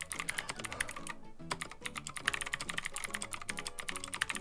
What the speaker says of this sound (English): Okay, typing test. Let's see if it works.